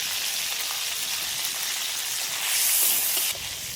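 Whole spices, cardamom, cloves, cinnamon and cumin, hitting hot oil in a pan after frying prawns, a steady close hiss of sizzling that swells briefly louder toward the end.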